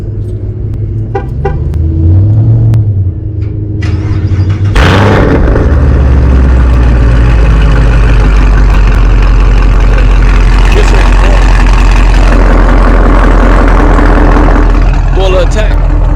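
A car engine warm-starts with a sharp burst of cranking, then settles into a loud, steady rumbling idle that continues to the end, with people talking nearby throughout.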